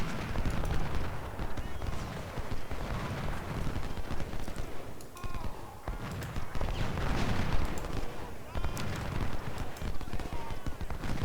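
Civil War battle in the Ultimate General: Civil War game, with dense rolling musket fire and sharp cracks throughout, loud and continuous, with scattered heavier booms.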